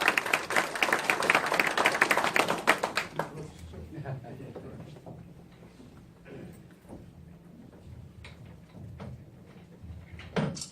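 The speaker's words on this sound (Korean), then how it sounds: "박수로 환영해 주시기 바랍니다" An audience applauds at the opening ceremony of the Korea Industrial Development Institute's Gumi branch, with dense, loud clapping for about three seconds that then thins to a few scattered claps and quiet room noise.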